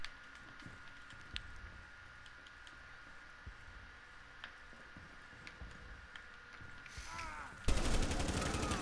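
Kaid's assault rifle in Rainbow Six Siege, firing sharp single shots spaced irregularly over a quiet, faint backdrop, followed by a louder burst of noise and a voice at the end.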